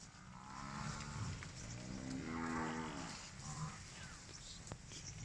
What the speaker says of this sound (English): this whole herd just started stampeding